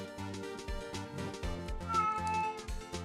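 A house cat meows several times in a row, close and clear, with a drawn-out tonal cry against faint background music.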